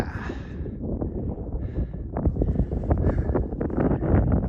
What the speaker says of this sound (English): Nice and windy.